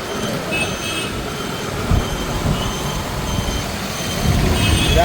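Traffic on a Jaffna street with trucks and buses rumbles past as a continuous, fairly loud low engine drone, with brief high whines and a couple of heavier swells as vehicles pass close.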